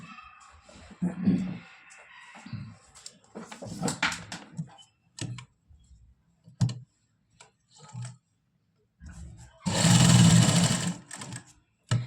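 A domestic sewing machine stitches a lined ladies' suit in bursts. The loudest whirring run comes near the end, set among intermittent clicks, thumps and short handling noises in a quiet room.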